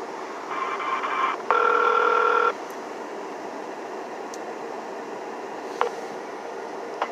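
Phone line ringing on hold during a call transfer to a county animal control office: two short electronic ring bursts, a brief one then a louder longer one, over a faint hissing line, followed by a click.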